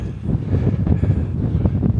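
Strong wind on an exposed Scottish hillside buffets the microphone in a continuous, heavy, low roar with gusty surges, loud and close, with no voices.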